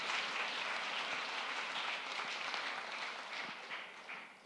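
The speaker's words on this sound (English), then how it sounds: "some applause for the following winners" An audience at a climate change summit applauds award winners with steady, dense clapping that fills the whole stretch and fades slightly toward the end.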